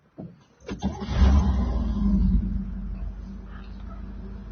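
A 1968 Chevrolet Camaro is started up close: a few clicks and a brief crank, then the engine catches with a loud rumble and settles into a steady idle, with no talk.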